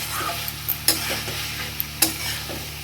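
Spices and nuts being stirred into a sweet pumpkin curry in a pan, with a constant frying hiss under two sharper spoon scrapes against the pan, close up and with no voices.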